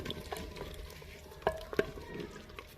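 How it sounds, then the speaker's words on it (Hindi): Ground cumin, turmeric, salt and chili frying in a pan for a village-style turnip and meat curry, giving a faint, soft sizzle with a few light stirring clinks, close by, with no voices. "अब हम इसे अच्छे से भून लेंगे इनको।"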